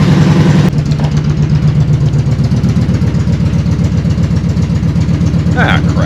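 A 2011 Kawasaki Vulcan Voyager VN1700 trike's engine idles as it warms up, a close, steady low rumble with an even throb; a short louder burst opens it and a brief sound rises near the end.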